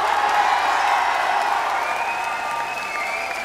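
A concert audience cheers and applauds steadily, a dense wash of clapping and shouts that holds loud and close throughout before easing slightly toward the end.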